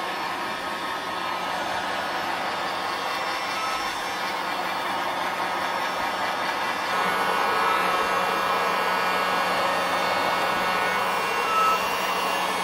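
Heat gun blowing hot air onto a Nissan 350Z drift car's wheel arch before rolling, a steady close whooshing roar that runs throughout and swells slightly louder partway through, with no talking.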